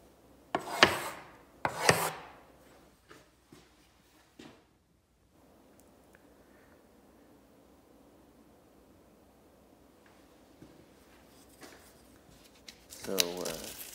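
A crooked, damaged drywall corner is being cut off, giving a few sharp rasping scrapes up close, then a quieter, rougher stretch of scraping before a final loud gritty burst.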